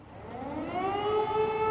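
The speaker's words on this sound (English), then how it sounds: "Air raid sirens periodically sounded throughout the day." An air raid siren winds up, its wailing tone rising steadily in pitch and loudness over a couple of seconds.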